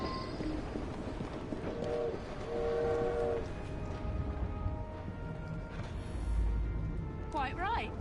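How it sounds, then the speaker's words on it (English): A steam train in Assassin's Creed Syndicate rumbles steadily beneath game speech, with a drawn-out horn blast sounding twice early on and a shriller whistle near the end. "Hey look, there's my train."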